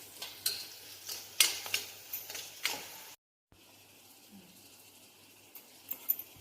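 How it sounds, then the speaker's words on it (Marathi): Turmeric, coriander powder and salt sautéed in a tempering for stuffed karela filling, with several sharp stirring scrapes and light sizzle, then a brief gap and a quiet hiss with a few more clinks. "हळद, थोडाशी धणे पावडर, चवीनुसार मीठ टाकून हे सर्व साहित्य परतून घेऊया"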